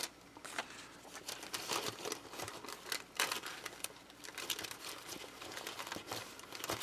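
Paper envelope handled at close range, giving a steady run of crinkling and rustling with sharp papery crackles and light taps throughout, no talk.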